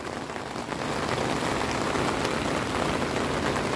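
Water pours strongly over an artificial waterfall in Tainan, swollen after days of heavy rain, making a loud, constant rushing hiss with no break.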